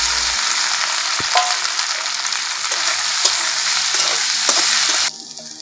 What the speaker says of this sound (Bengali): এখন আমি আলুগুলো একটু ভেজে নিব।